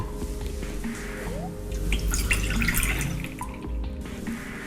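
Water pours from a tap into a kettle for tea, a close, steady splashing stream with the tone shifting as the vessel fills, heard alone without voices.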